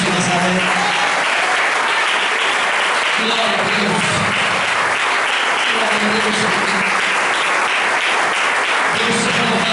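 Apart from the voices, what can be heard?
church congregation applause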